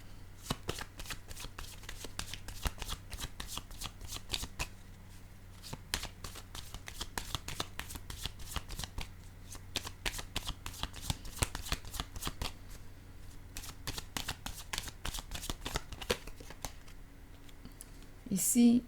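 A deck of playing cards is shuffled continuously up close, giving a dense run of rapid riffling snaps and clicks that keeps going with little pause, under faint room tone.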